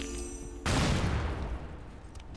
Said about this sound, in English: So drop a bomb.